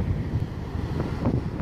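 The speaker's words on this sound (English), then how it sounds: "So there's some huge waves, several meters high." Big waves crash and churn against the rocky shore of a Shetland tombolo, heard as a continuous low, rumbling surge mixed with buffeting wind noise on the microphone, loud and close.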